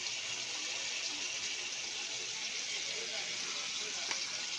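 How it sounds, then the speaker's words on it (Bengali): Kewra water and rose water are poured into a cooking dish, heard as a steady, soft hiss of liquid and sizzle throughout, with a small tap near the end. "কেওড়া গোলাপ জল দিলাম।"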